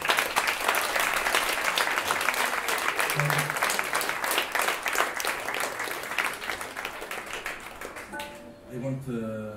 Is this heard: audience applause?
yes